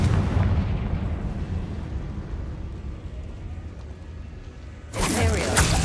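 A Confringo fire-blast spell in Hogwarts Legacy sets off a long, rumbling roar of explosion and crackling debris, followed by a sharp, bright burst near the end.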